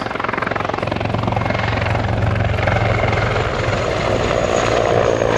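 A three-crew military helicopter flies close by at an air show, its rotor thumping steadily under a loud, constant engine whine, with no voices.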